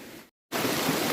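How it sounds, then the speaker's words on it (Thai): Rushing water from a waterfall, a dense steady roar of flowing water that cuts out briefly, then returns louder and constant. "เราจะข้ามน้ำตกกันแล้วนะคะ ฟังเสียงธรรมชาติเพาะเลยค่ะ"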